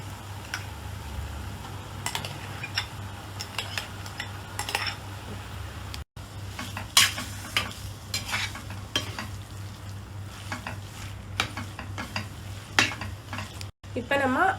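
Boiled mashed potato stirred into a hot pan for chicken cutlet filling, with steady sizzling, repeated scraping of a spatula against the metal pan and occasional clinks, close and fairly loud throughout.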